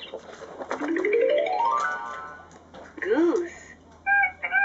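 A VTech Touch and Learn StoryTime interactive toy storybook plays a recorded chick and fowl sound effect: a rising crow-like call, a short clucking burst, then quick electronic chirps, all close and clear.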